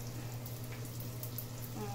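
Bangus (milkfish) shanghai rolls fry in hot oil, giving a steady, even sizzle with a low hum underneath that lasts the whole stretch.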